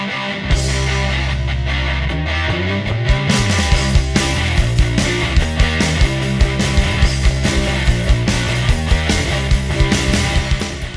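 Album track, full dense band mix with a heavily compressed, electronic-sounding guitar over steady rhythmic drums, loud and continuous throughout.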